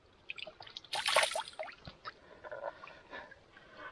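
Water splashed and rubbed over a head by hand at a riverside while camping in the wild, with soft irregular trickles and dribbles, one louder splashing burst early on, then quieter drips close to the microphone.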